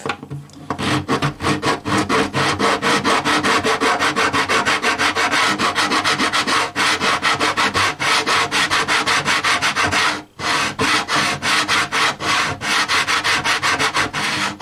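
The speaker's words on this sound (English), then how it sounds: "This here is the saddle slot file, 3/32. They also make it in a 1/8." A 3/32 saddle slot file rasps in the saddle slot of a vintage 1940s Gibson J-45 acoustic guitar with rapid, continuous back-and-forth strokes, loud and close, pausing only once briefly.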